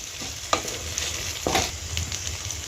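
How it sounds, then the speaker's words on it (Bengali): Garlic paste and spices frying and being stirred in a pan for an egg tarka, with a steady close sizzle and two sharper scraping stirs over it, no talking. "এবার রসুন বাটাটা দিয়ে দেব। দিয়ে ভালো করে মশলাটা কষিয়ে নেব।"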